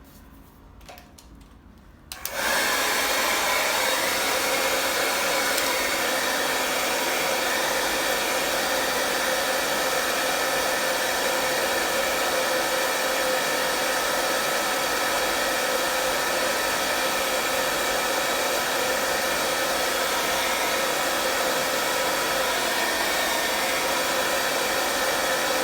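A hair dryer switches on after a quiet moment and blows loud and constant at close range, drying wet paint on a forest landscape painting.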